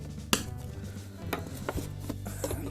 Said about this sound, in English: let's just cut these ties here